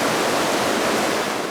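White water rushes during a kayak run, a loud, dense and unbroken roar of churning river.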